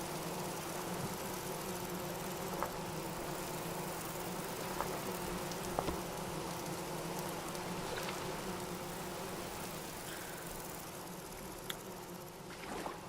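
Bees buzzing at a hive out in the open, a low steady droning hum with faint clicks on top, quiet and continuous, no talking.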